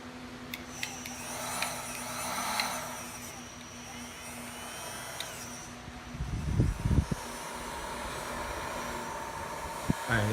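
A Home Right Electro Torch charcoal fire starter runs with a steady electric hum and whir of its heating element and blower, with faint clicks and handling knocks and a brief louder rumble midway.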